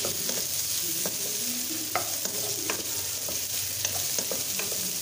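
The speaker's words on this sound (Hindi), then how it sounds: "शिमला मिर्च ऐड कर दिए, हम थोड़ा फ्राई करेंगे इसमें" Capsicum frying in a pan for chicken and vegetable macaroni gives a continuous close sizzle with frequent small crackles and spatula scrapes, moderately loud and without speech.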